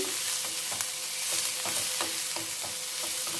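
Snake gourd pieces frying in a pan over a low flame, giving a steady, close hiss with soft, regular stirring scrapes throughout and no talking.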